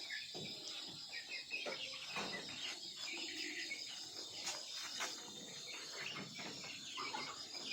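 Chickens cluck steadily after being fed at a farm, a continuous close flock chatter with insects chirping in the background.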